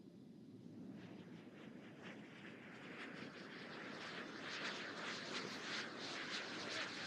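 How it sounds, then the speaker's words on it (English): Distant military aerobatic aircraft rolling over an air show at a naval air station, a steady broad engine roar that swells gradually louder toward the end, heard alone without talk. "That maneuver, the 4-point hesitation roll, is an extremely challenging maneuver because it's a 42-foot wingspan"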